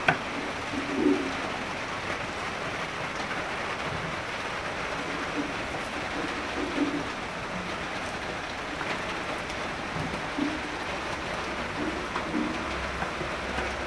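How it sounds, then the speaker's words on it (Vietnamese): Steady rain falls outdoors in the Mekong Delta countryside, a constant close hiss of drops on surfaces lasting the whole stretch, with a few faint low knocks and no one speaking. "Sáng nắng quá trời nắng luôn, giờ mưa."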